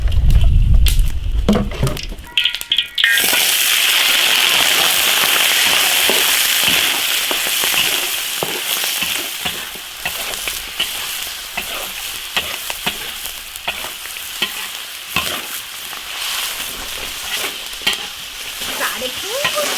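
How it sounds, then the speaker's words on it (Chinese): Chicken pieces stir-frying in hot oil in an iron wok over a wood fire, with a loud, steady sizzle and crackle and the scrape of stirring running throughout, alone without talk. "烧油炒鸡子。"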